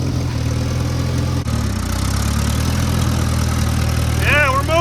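A 1962 Allis Chalmers dozer engine runs steadily in gear while the machine moves, a loud low rumble throughout with a brief dip early on and a squealing whine near the end.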